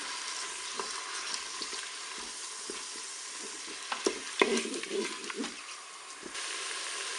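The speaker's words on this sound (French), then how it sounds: "Au fur et à mesure que mon thon cuit, je vais l'émietter." Tuna steaks sizzle in a Cookeo multicooker in a steady loud frying hiss, while a utensil scrapes and taps intermittently as the fish is crumbled, with no talking.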